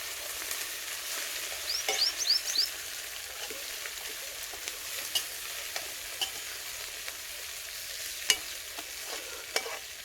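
Amaranth greens (tandalja bhaji) being stirred as they fry in a pan, a steady low sizzle with scattered scraping and tapping from the spoon, close by and without talk.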